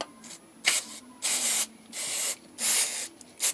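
Brake cleaner sprays onto a GSXR 1000 motorcycle in five short, close hissing bursts of varying length, each separated by brief quiet pauses.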